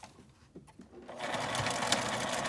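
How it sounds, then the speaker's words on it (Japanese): A sewing machine starts up after a few soft handling noises and runs steadily, edge-stitching the folded seam allowance on a lined zipper pouch with a fast, even mechanical whir. "こちらも同じように縫い代を下側に倒して端ミシンをかけます。"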